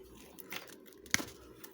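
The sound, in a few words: stripping insulation off a wire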